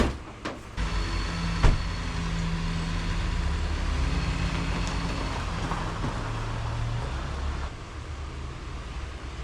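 A car engine hums steadily on a test drive, a low, fairly quiet drone with a brief knock early on, and no one talking.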